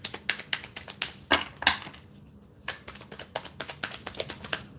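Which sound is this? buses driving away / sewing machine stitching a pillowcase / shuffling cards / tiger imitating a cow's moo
shuffling cards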